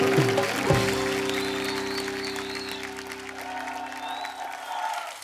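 Studio audience applause on a television comedy show, a steady wash of clapping at moderate level under sustained musical tones, gradually easing.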